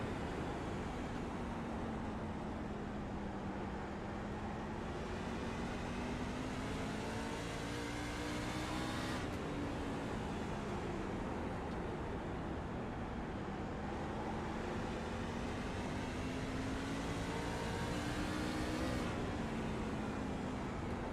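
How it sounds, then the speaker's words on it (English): Onboard engine of a Ford F-150 race truck lapping North Wilkesboro Speedway, a loud, steady roar that climbs in pitch along the straights and drops sharply at regular intervals as the driver lifts for the turns. "go on board with Barrett Flo in the number 92 F-150 and see how he's wheeling this machine around the track."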